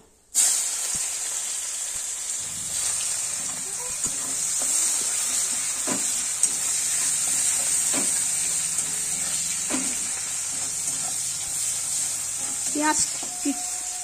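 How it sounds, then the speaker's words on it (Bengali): Sugar, cardamom, cloves, bay leaf and onion fry in hot oil left from frying katla fish, a constant close sizzle and hiss with scattered spoon scrapes and clinks. "এবার এই তেলে একটু চিনি দেব, এলাচ দেব, লং দেব, তেজপাতা দেব, পেঁয়াজ দেব"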